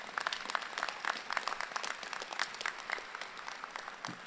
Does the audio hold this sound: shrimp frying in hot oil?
no